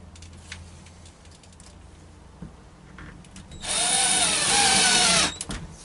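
A few quiet taps and handling noises, then a power drill whirs loudly for about two seconds, slowing at the end before stopping.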